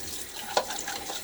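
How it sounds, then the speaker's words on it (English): Tap water running steadily into a tilted shaving bowl to rinse a brush, a continuous close splashing rush with one brief louder splash partway through. "I let the water roll into it, and it's tilted to the side, and that way the water drains out as well as comes in"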